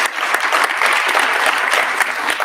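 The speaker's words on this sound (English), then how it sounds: "Let's give our panelists a round of applause." A conference audience gives sustained applause for panelists at a national sports advocacy event, a dense, even clapping that fills the room throughout.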